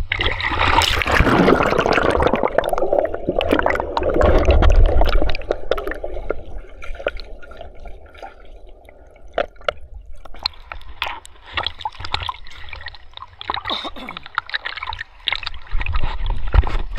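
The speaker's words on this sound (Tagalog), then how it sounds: "languyin natin yung ilalim ng tubig" Underwater swimming in a clear, cold river: muffled sloshing and bubbling water with soft trickles and squishy churning, loud and close throughout, with no voices.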